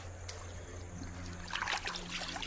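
Water splashes and trickles over a rock sample as it is washed off outdoors, a close, bubbly rush in the second half over a steady low hum.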